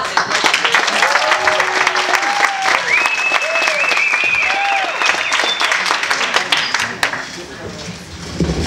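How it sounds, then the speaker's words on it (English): Steady audience applause for a guitar act at a small live music show, dense clapping throughout with crowd voices and cheers mixed in, loud and sustained. "So give them a little applause."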